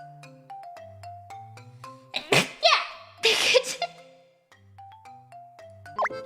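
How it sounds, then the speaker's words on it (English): Two sharp human sneezes burst out a second apart during a livestream, loud and close, over soft chiming background music. "I have to sneeze."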